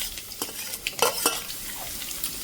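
Red chilli, curry leaves and finely chopped garlic crackle in hot oil in a pan for a jackfruit masala palya, the close sizzle broken by quick stirring clinks and scrapes of a utensil against the pan.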